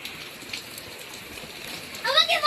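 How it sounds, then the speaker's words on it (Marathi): Heavy rain falls in a steady, even hiss, and a voice cuts in near the end. "पाऊस म्हणलं तर एवढं जोरात चालू आहे"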